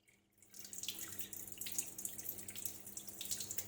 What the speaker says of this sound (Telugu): సెకండ్ సార్ పోసిన వాటర్ ఇట్లా మంచిగా కడిగి నీళ్ళని తీసేసుకోవాలి